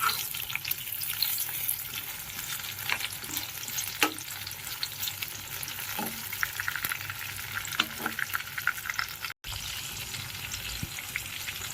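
Mushroom pieces for crispy butter chilli mushroom frying in a pan, a continuous close sizzle with occasional stirring scrapes and small pops, briefly cutting out near the end, no talk.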